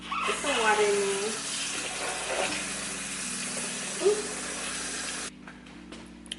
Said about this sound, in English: just put it in a bowl. Put some water in there.